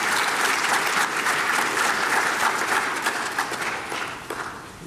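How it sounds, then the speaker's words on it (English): An audience at a formal New Year diplomatic greeting event applauds the President with sustained, dense clapping that stays strong before easing slightly toward the end. "Another round of applause for Her Excellency President."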